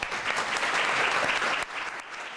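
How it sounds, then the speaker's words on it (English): Applause at Government House in Adelaide for an Order of Australia recipient, a dense burst of clapping from a crowd that fades slightly toward the end. "the applause that rang through Government House in Adelaide for Ashleigh Moore"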